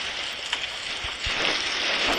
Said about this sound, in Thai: แต่ผมตกใจและกลัวเสียงฝนนี่สินะ